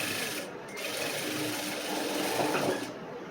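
Sewing machine stitching a cross-cut blouse, a steady continuous mechanical whir at close range that holds even through the clip with a slight swell near the end, no voices.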